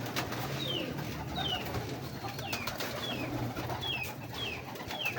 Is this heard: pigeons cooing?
yes